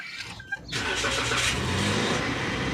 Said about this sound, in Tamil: இன்றைக்கி தான் வண்டியை ஸ்டார்ட் பண்ணுறேன்